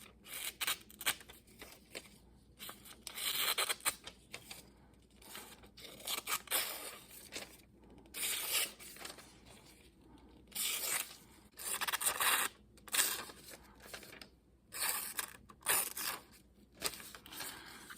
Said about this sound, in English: I don't have knives get so dull that they can't cut that cardboard.